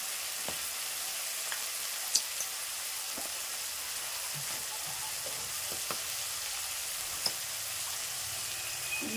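Green peas sizzle and fry in a pan with a steady, even crackle and scattered small pops, fairly close and alone without talk.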